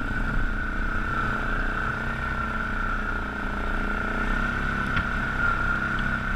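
A Yamaha Grizzly 660 ATV creeps in 4-wheel drive low over frozen muddy trail, the engine holding a steady low-rev hum with a constant whine on top.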